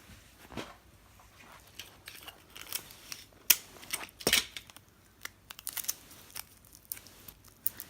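Tape is pulled and pressed onto embroidery fabric for an in-the-hoop Thanksgiving fox banner, giving scattered sharp rips and crisp clicks, close and fairly quiet, with a few louder snaps and no talking.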